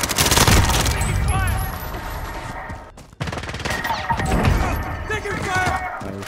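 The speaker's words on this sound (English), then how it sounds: "Taking fire! Taking fire!" Heavy, continuous automatic gunfire in a Call of Duty: Warzone match on Rebirth Island, with rapid overlapping shots and bursts, loud and close, with a brief drop-out midway before the firing resumes.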